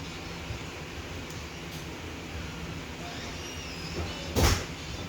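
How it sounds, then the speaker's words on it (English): A door is slammed once near the end, a short, loud knock. Before it there is only a steady background hum and room noise, and no one speaks. "Why you slam the door?"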